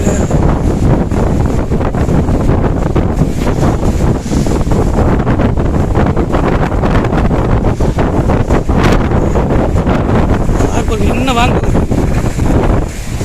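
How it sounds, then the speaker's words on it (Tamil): Stormy wind roars across a harbour in Oman, buffeting the microphone in loud continuous gusts with water and boat noise beneath and someone speaking over it. "இந்த ஓமன் துறமுகத்தில் புயல் அடிக்குதுங்க"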